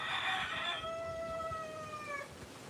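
A rooster crows once among chickens in Grenada, a single clear drawn-out call that starts harsh and tails off into a long steady note, heard fairly close over quiet outdoor background.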